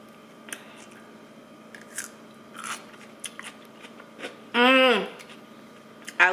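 Someone bites into crunchy homemade overnight refrigerator dill pickles, sharp close crunches and chewing clicks followed by a loud, brief vocal exclamation, with a voice heard around the bites.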